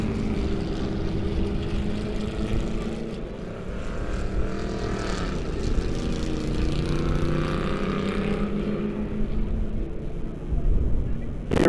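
Crown Victoria race cars roar through a heat race at Lebanon I-44 Speedway, a dense, continuous engine rumble that swells and fades as the pack passes, loud and unbroken throughout.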